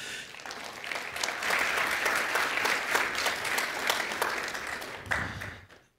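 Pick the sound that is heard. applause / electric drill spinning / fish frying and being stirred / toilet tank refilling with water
applause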